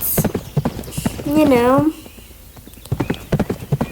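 A show jumping horse clip-clops through a practice session over low poles, its hooves knocking in an irregular close rhythm, briefly interrupted by a loud whinny; a person talks between the hoofbeats.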